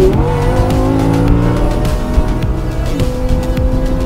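A V10 four-wheel-drive car's engine revs hard with a Formula 1-like howl, loud and close throughout, with rising and falling harmonic sweeps and a brief tire squeal, no voices.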